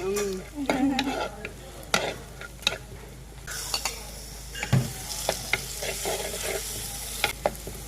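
Tomatoes sauté in a pan with a close, continuous sizzle and irregular stirring knocks and scrapes of a spoon against the pan, heard alone without talk.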